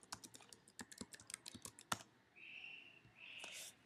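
A password typed on a Mac computer keyboard, a quick irregular run of close, soft key clicks followed by a couple of brief faint electronic tones.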